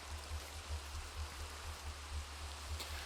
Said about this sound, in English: this rain is obnoxious. I really wish it wasn't raining